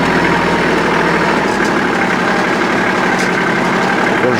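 Tractor engine pulling a Grizzly 4-wheel hay rake on a steep hayfield while slowing for a turn, a loud, steady, close rumble with low vibration. Talk may run faintly beneath it.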